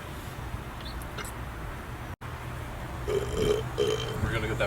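Burping after chugging Sprite: a low, drawn-out belch rises in the second half over a faint background hum, after a brief dropout, with no talk over it.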